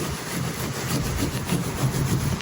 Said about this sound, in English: This is my wheel and body brush I've been using with Ragnarok wheel acid.